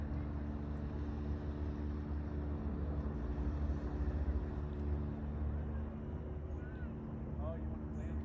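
Jet skis motor on the water at a distance, a steady low engine drone with wind noise that fills the whole stretch, and faint voices are heard near the microphone.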